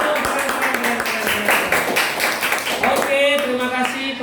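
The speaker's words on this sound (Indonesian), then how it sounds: "Oke, tepuk tangan dulu." A classroom group clapping hands together, a burst of fairly close, rhythmic claps with voices heard alongside and a brief higher tone near the end.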